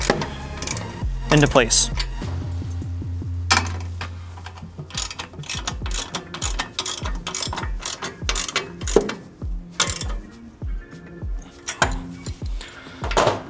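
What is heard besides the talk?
tightening a forklift guard leg mount with a 9/16 wrench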